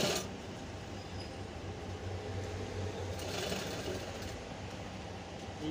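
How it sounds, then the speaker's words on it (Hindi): A sewing machine stitches a watch pocket onto a pair of pants, giving a steady, close mechanical whirr that runs without a break. "मशीन को यहाँ पे यहाँ से एक सिलाई मार लेंगे"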